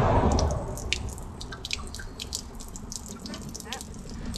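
Water drains from an RV pressure relief valve during winterizing, dripping and splashing in quick, irregular drops over a low background rumble.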